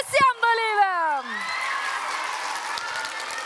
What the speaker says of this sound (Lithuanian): Ir plojimai savo ir visiems dalyviam.